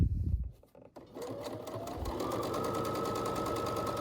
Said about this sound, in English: hold my fabric flat, and stretch my elastic as I'm sewing